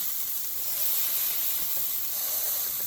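Burgers sizzle in a hot pan as they are pressed flat with a spoon, a steady broad hiss that holds at an even, moderate level throughout, with no talking.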